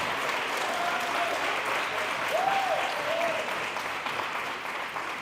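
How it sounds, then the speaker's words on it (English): A large audience at a scholarship and awards ceremony applauds the parents, a steady, dense wash of clapping that holds even throughout with faint cheering. "Let's give them a rousing applause."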